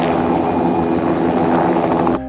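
A helicopter filming wildlife from a distance gives a loud, steady rotor thrum with a constant engine whine, continuous and alone for about two seconds before it cuts off abruptly.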